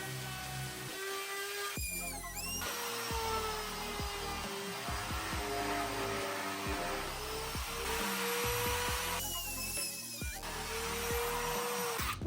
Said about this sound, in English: I drilled holes with spade bits and I used dowels